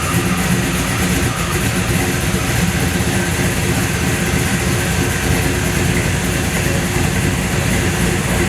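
Right after a Holley Sniper EFI install, a car engine runs at a steady idle on its first start, a dense continuous rumble with no pauses and no voices.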